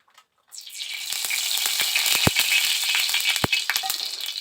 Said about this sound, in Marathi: इकडे तवा जो आहे तो गरमच आहे तर मी याच्यावर तेल टाकून देणार आहे थोडंसं